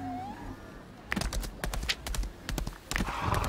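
Rapid, irregular hoofbeats of a horse in the video game Lost Ark clatter in a steady gallop after a quiet start, with a brief whinny-like tone early on; no talking.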